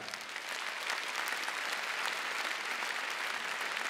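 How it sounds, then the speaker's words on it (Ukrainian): Concert audience applauding and cheering as performers are called to the stage, a broad, sustained roar of many hands that swells in after a brief quieter start and then holds steady, with no voices over it. "запросити на цю сцену під ваші бурхливі оплески і овації"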